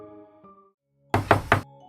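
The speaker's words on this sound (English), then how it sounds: "A knock on the door." Three quick, loud knocks on a door, close by and sharp, breaking into quiet background music.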